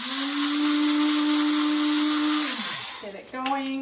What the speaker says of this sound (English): So I'm going to put a tablespoon of flaxseed into my coffee bean grinder.